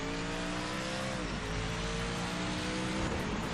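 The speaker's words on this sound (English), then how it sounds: "Oh, this car sounds so good." A race car engine in the video game Project Motor Racing: a steady, loud, buzzing engine drone that drops in pitch as the revs fall, then climbs again with a brief tire squeal.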